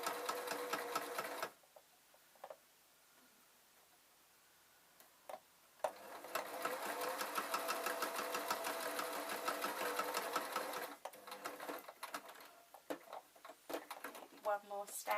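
A sewing machine runs in bursts, stitching through the layers of a fabric scissor case with a strap, with steady mechanical chatter, a pause, then a long continuous run and shorter stop-start stitches near the end.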